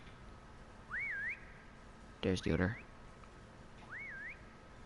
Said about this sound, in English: It's kind of easy to locate them by the whistling.